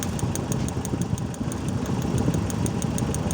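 A car engine idles roughly with one dead spark plug, a steady low rumble with an uneven, slightly knocking pulse and a regular faint ticking above it, close and continuous.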